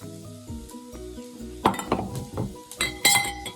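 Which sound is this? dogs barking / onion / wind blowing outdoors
onion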